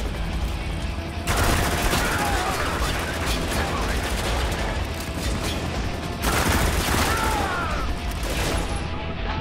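Gunfire rattles in the shooter Spec Ops The Line in two dense bursts of rapid shots, loud and close, with quieter stretches of ambient noise between them.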